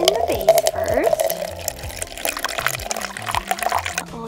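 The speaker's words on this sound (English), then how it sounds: "Put some water in the vase first." Water is poured into a small vase during doll play with Barbie and Ken toys, a close splashing trickle with voices and music running over it.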